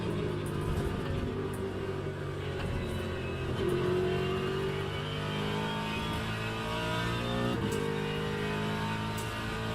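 A Mustang V8 GT3 race car in the Le Mans Ultimate sim racing game roars loud and steady, engine revving up and down through shifts for the whole stretch, with no talk over it.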